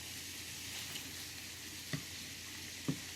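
Prawns fry in a pan with a steady, quiet sizzle. A spatula turns them over, making two brief soft scrapes and knocks close by.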